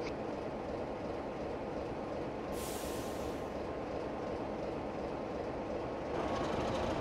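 A train runs in a simulator on a London to Faversham route with a spoil train, a steady low rumble of rolling stock with faint rail clatter, a brief hiss partway through and a slight swell near the end.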